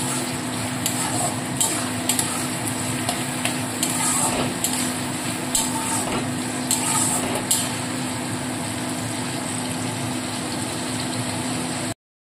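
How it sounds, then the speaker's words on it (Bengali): Chopped onions fry lightly in a pan, giving a soft, steady sizzle under a constant low hum, with a few brief scrapes and taps from stirring. "পেঁয়াজটাকে কিন্তু আমি লাল করে ভাজবো না, একদম হালকা ভাবে ভেজে নেবো।"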